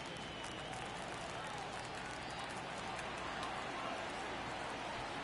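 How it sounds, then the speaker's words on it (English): The stadium crowd roars in MLB The Show 24 during a close ninth-inning baseball game between the Orioles and Blue Jays, forming a dense, continuous wash of cheering noise that holds at a steady level throughout. "Crowd locked in right now."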